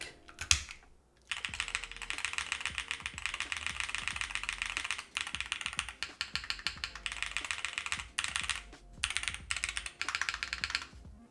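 Fast, steady typing on a mechanical keyboard with Hall effect switches, dense clacky keystrokes in bursts with brief pauses, close up and with no voices.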